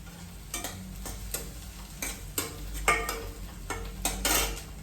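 Onion browning in a hot pan for a home-cooked dish, with a steady soft sizzle broken by repeated scraping stirs of a spoon or spatula against the pan, close and fairly quiet, no talking.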